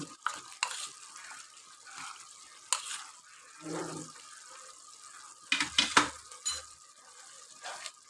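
Garlic stirred into a frying pan of chicken curry, with soft sizzling and intermittent scraping clatters of a spoon against the pan, close and moderately quiet, no talking.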